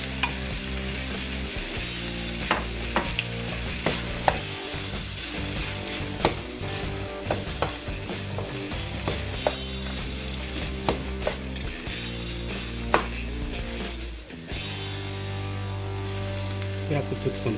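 Carrots, peas and corn fry in butter in a pan, a steady close sizzle with frequent clicks and scrapes of stirring throughout, while someone talks.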